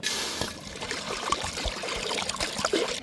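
Water trickles and splashes steadily into a cooking pot, with a few faint clinks along the way.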